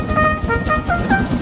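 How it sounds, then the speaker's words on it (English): A toy-train style whistle from Thomas the Tank Engine, heard as a series of short tonal toots in close succession, fairly loud and near, with no voices. "Then he heard a whistle."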